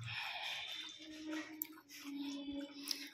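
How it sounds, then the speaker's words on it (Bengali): A pet laps water from a bowl outdoors on a sunny day, giving soft, close wet slurps and drips, fairly faint and steady, with no talk over it. "এবার জল খাচ্ছে টিনটিন"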